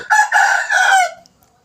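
A single rooster crow, loud and close, rising then holding before trailing off into quiet.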